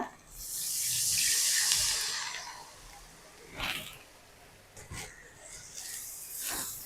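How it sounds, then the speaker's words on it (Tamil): Tamarind water is poured into a pan of sautéed onions while making a Tamil medicinal kuzhambu. A gentle rushing splash lasts about two seconds, followed by faint clinks and stirring sounds close by. "இப்போ இந்த தண்ணியை ஊற்றிக்கிறேன், புளி தண்ணியை."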